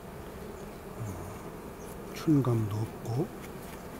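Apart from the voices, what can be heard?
honeybees buzzing in a hive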